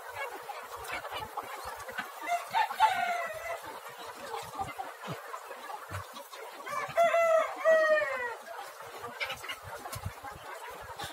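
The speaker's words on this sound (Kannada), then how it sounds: "ಇವಾಗ ಪ್ರೆಸೆಂಟು 1700 ಕೋಳಿ ಇದೆ ನಮ್ಮ ಸೆಡ್ಡಲ್ಲಿ," Country chickens in a shed holding around 1700 birds keep up a constant clucking chatter, with two clear rooster crows standing out over the flock.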